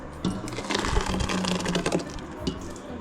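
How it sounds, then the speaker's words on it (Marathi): A kitchen mixer grinder grinds soaked wheat grains, a loud, steady whirring and rattling motor drone that runs for the whole stretch with no talking. "आता मिक्सरमधून बारीक करून घेणार आहे"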